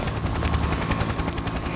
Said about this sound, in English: Why is this helicopter even shooting at me?